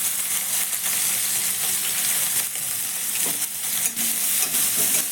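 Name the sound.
mustard seeds, cumin, onion and chillies frying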